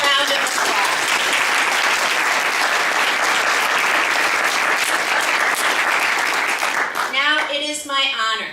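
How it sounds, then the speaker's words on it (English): Loud, dense audience applause fills the room steadily after remarks at a Secretary of State and State Librarian event, thinning near the end as a voice begins speaking over the last claps. "So please, give yourselves one more big round of applause."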